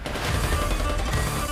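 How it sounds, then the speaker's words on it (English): Gunfire from the video game NIKKE crackles in a dense, rapid burst, loud and close, blended with a rumbling low-end boom for its whole short span. "Gunshots?"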